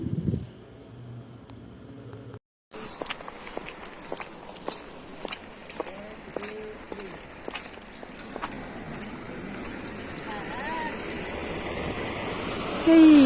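The Kameng River at Bhalukpong in West Kameng, Arunachal Pradesh, rushes with a steady broad hiss of flowing water, while nearby footsteps crunch in a regular rhythm over the top.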